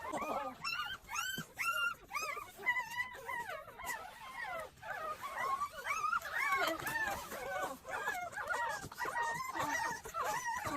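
A rescued stray mother dog and her puppies whimpering and yipping close by, a busy stream of high whines and squeals with soft talk in the background.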